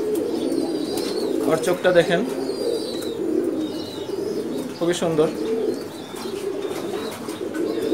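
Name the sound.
Pulsar racing pigeon cooing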